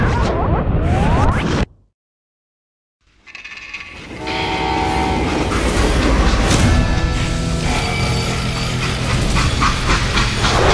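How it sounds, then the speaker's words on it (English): Freight train in the Call of Juarez Gunslinger video game: loud rumbling rail noise with a horn and clatter, cut by a short silent gap, then the steady roar of the moving train continues, no speech. "How'd they stop this train in the first place?"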